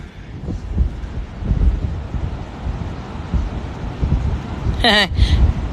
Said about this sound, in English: It is a cool wind, yes.